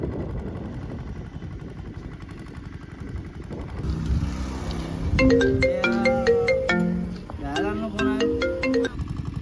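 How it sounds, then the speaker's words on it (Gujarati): A ringtone-style melody plays loudly over a mix of voices and background noise during a village argument about a road, with bright repeated tones arriving midway and continuing in short bursts. "હું મુખીને ફોન કરું પછી વાત કરી લો તમે"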